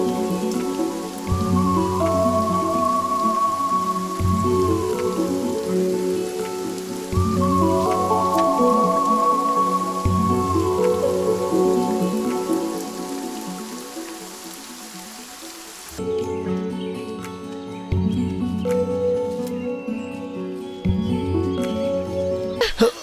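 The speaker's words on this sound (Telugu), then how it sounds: "వర్షం వచ్చేలా ఉంది, ఇంటికి వెళ్ళిపోదామా?" Steady rainfall hisses close by in an outdoor scene from a Telugu film, a continuous wash running under a melodic music score throughout.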